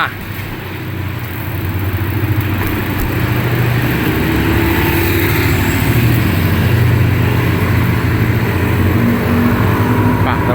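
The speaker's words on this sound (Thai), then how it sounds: "ตอนนี้รถมา" Road traffic noise with a car passing nearby, a steady engine rumble that swells slightly and holds, heard outdoors from the roadside during a bicycle ride.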